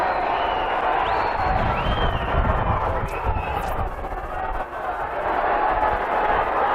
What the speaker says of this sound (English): Every tackle they make, the cheer goes up.